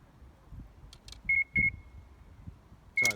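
A fishing bite alarm on a rod rest sounds several short, shrill electronic beeps at a lakeside: a quick pair, a lone beep and a final beep, each clear and close over quiet handling noise.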